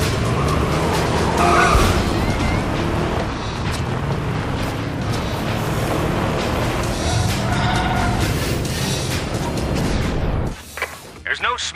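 Racing karts in the PS3 game ModNation Racers roar loudly and continuously with tire squeal and skidding throughout, under a game announcer's voice, before dropping off sharply near the end.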